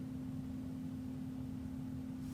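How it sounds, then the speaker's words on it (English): A furnace or air conditioner runs in the background of an indoor room during a 48-bay Supermicro 4U server build, a faint steady hum with an even low drone and no other activity. "we'll have the ambient background noise of the furnace or the air conditioning running in the"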